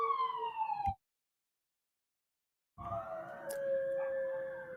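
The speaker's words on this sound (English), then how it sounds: "a ambulance drive past my house, my wolves start howling" An ambulance siren wails as it passes a house, cut off briefly, then wolves kept as pets raise a drawn-out howl that rises and holds over the returning siren.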